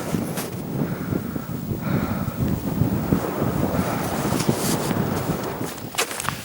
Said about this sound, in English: So you get the wind there.